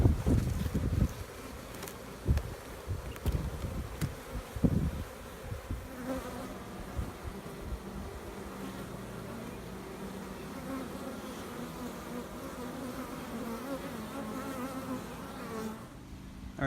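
Honeybees buzz faintly at close range around a swarm trap, a few passing near with rising and fading hums over a soft outdoor background, with some handling bumps early on.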